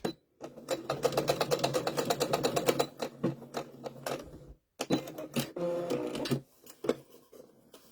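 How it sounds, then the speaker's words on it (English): A sewing machine stitching fabric for a carrot-themed mug rug, running in a fast, steady rattle, pausing, then stitching again in shorter bursts, with no talk. "I'm going to back stitch and go forward a couple of times"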